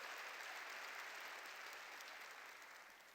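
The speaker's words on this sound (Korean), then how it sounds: "박수로 하나님께 영광 돌려야죠" A church congregation applauding together, a dense, steady wash of many hands clapping that holds evenly and then begins to fade toward the end.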